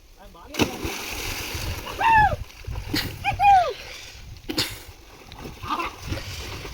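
Someone dives into water on a farm outing with friends, throwing up a loud, close splash among several bursts of sloshing water, with excited voices shouting and talking throughout.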